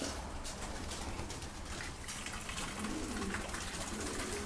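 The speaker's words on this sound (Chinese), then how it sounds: "鸽子多起来了，不能磕到它们。" Young breeding pigeons cooing in their loft, soft repeated coos set against a constant broadband background hiss with no talking.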